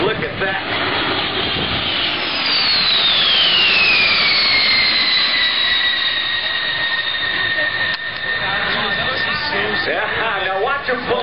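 Military nuclear-capable bomber jet flying past at the 2009 Indianapolis Air Show: a loud, sustained jet roar whose whine sweeps downward as the aircraft passes, with a voice talking over it.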